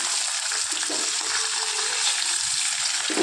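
Eggs sizzle and crackle in hot oil in a pan, a loud, steady, close frying hiss with no break.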